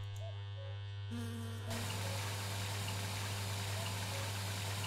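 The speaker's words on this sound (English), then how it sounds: "Now, we need to put water in this bucket" Water fills a bucket in My Summer Car, a steady gushing pour that swells after a short hum-laden start and keeps running evenly, fairly quiet, with no talking.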